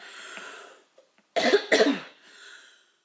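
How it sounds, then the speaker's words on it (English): A short, sharp double cough right up close, with quiet rustling and faint background noise before and after. "It's like I hate to cough because it hurts"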